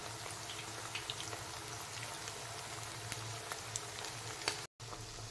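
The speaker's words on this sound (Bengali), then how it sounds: "এখন আমি মিডিয়াম ফ্লেমে রেখে এগুলো গোল্ডেন ব্রাউন করে ভেজে নেব।" Chicken pakora fries in oil over a medium flame, giving a steady soft crackle and hiss with scattered tiny pops and a brief dropout near the end.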